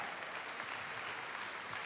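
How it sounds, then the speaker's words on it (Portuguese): A church audience claps continuously in a brief, even burst of applause, fairly faint and distant-sounding. "Pode aplaudir a Jesus, gente."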